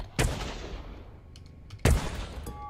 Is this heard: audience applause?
no